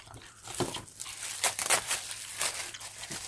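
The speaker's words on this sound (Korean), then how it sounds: "비닐 소리가 납니다" Plastic wrapping crinkles in several bursts of sharp rustling and crackling, close and fairly loud, with brief pauses between handlings and no talk.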